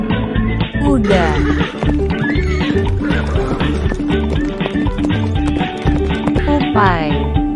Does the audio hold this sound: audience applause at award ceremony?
no